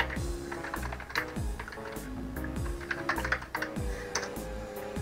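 A command typed on a computer keyboard, rapid irregular clicks and key taps close up, with a few louder strokes like the space or enter key, steady throughout and without talk.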